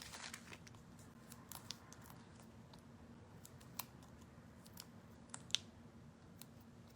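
Small scissors snip card paper while making handmade autumn cards, a few faint, sparse crisp cuts and clicks over a quiet room background.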